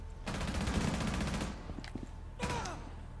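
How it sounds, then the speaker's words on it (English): Pistol shots in Rainbow Six Siege: a quick run of rapid shots, then one or two separate cracks after a short pause, all fairly quiet and distant-sounding. "shoot him in the foot with your pistol"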